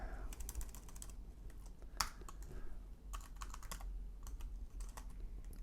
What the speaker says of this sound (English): With my bad typing, it's going to take a little bit longer